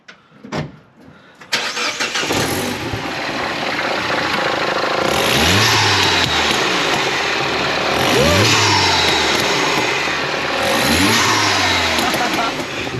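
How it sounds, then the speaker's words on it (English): A Mini Cooper JCW track car fitted with an Airtec open air intake fires up and is revved several times, each loud throttle blip rising and falling over a steady idle with strong induction noise, close by. "Listen to the induction noise."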